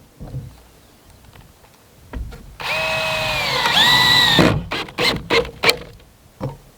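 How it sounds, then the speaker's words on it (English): A power drill drives self-drilling screws through roofing on a porch roof, with a sustained whirring run of about two seconds, then short bursts and clicks, close by and with no talk. "just lay them on like that and just start driving screws through them, really."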